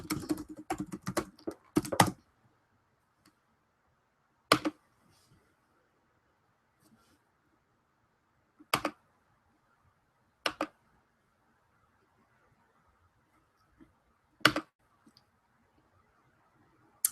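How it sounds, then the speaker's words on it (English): Bursts of typing on a computer keyboard during an evening training session: a dense flurry of key clicks at the start, then isolated sharp taps spaced several seconds apart over a quiet background. "I'm going to type it here."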